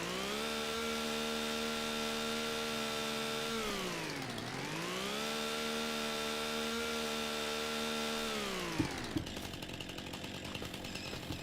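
A chainsaw cutting wood in Farming Simulator 25, a loud steady engine whine that dips in pitch as it bogs into the cut, recovers, then drops off into scattered rough cutting noise near the end.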